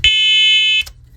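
A First Alert smoke and carbon monoxide alarm gives one loud, piercing electronic beep lasting under a second, close by, followed by a faint rustle.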